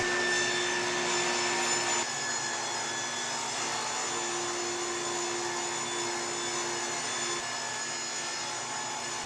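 A power saw rips rough lumber into crib leg, spindle and rail stock with a continuous, loud whirring drone and steady tonal hum, its pitch shifting slightly as cuts change, with no voices.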